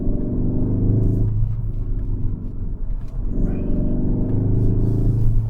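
A Cupra Leon estate accelerates hard along a mountain pass road, its engine droning loud and close in a steady rising pull, easing briefly after a gear change before climbing again.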